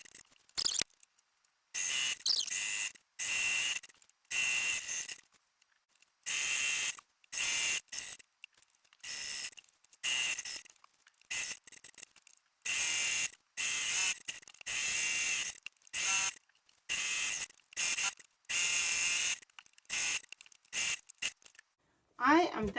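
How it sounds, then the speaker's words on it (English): Sewing machine stitching around the edge of a fabric laundry bag, bursts of steady whirring and rapid needle chatter starting and stopping repeatedly, close up and loud. "And I will be stitching just about a 1/4 inch from the edge."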